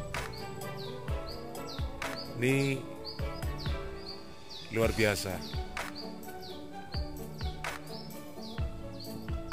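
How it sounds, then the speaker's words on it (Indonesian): Small birds chirp and tweet outdoors in a cool, breezy rural setting in Prigi, Trenggalek, with repeated short calls scattered throughout under a man's steady speech. "Burung-burung berkicau"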